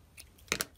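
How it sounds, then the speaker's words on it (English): Scissors make two quick, crisp snips through craft twine, close and clear against a quiet room. "We're gonna snip that."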